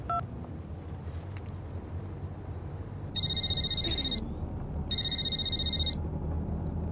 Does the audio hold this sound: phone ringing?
yes